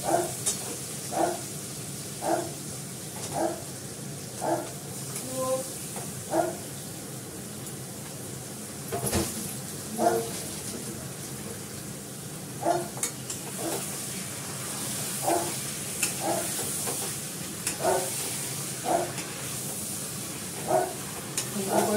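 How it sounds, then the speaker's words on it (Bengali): Marinated meat, added to a pan of oil with chilli powder and bay leaves, sizzles softly while a spoon scrapes and stirs in regular light knocks, steady and moderately close. "এবার মাংসটা যে ম্যারিনেট করে দিলাম এটা দিয়ে দেবো"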